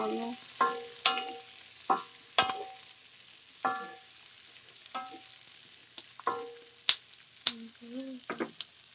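Tofu fries in a pan for tofu sisig with a constant, close sizzle, while a utensil scrapes and clatters against the pan in irregular bursts as it is stirred.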